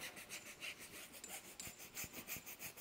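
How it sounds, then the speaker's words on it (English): A stiff tire brush scrubs back and forth against a rubber car tire in quick, rhythmic strokes, a faint raspy bristle scratching repeated about every third of a second. "agitate, scrub, let those bristles really get in there and give the tire, the rubber, a deep clean."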